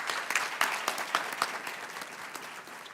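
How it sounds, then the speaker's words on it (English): Audience at a hooding ceremony claps steadily, a dense, moderately close burst of applause that tapers slightly toward the end with no voices over it. "give another round of applause for all this excellence going on right now"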